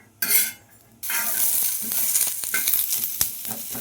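Onions dropped into hot oil in a pan after roasting coconut, for a mixed mutton sambar, hiss sharply and then settle into a steady loud sizzle with light stirring scrapes.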